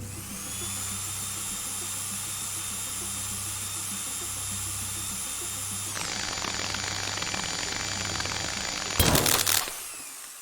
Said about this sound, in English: let's start the drill.